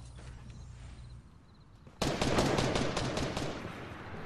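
Rapid gunfire in the Fortnite video game kicks in abruptly halfway through, a dense, loud burst of repeated shots that continues to the end after a quieter stretch of game ambience.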